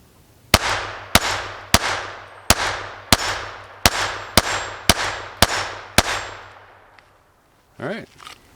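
Taurus TX22 .22 pistol firing mixed ammunition: ten sharp, evenly spaced shots, each with a ringing decay, close and loud, followed by a faint click and brief voice-like sound.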